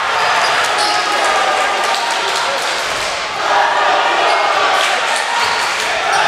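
The crowd at a boys' high school basketball game between LHS and Wachusett roars in a loud, continuous cheer that swells and surges, with a sports commentator's voice running over it.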